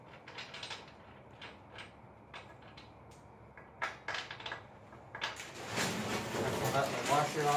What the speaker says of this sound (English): go ahead and take the axle nut and washer.